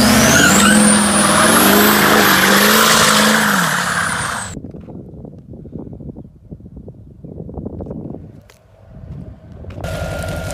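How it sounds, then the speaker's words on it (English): A boosted truck doing a burnout, a loud engine screaming at high revs for several seconds before cutting off, followed by quieter crackling and rumbling noises after the run. "I'm gonna do one more burnout just for fun."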